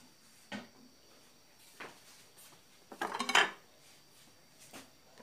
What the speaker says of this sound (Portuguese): Deixa eu pegar esse pano. Vou pegar a panela.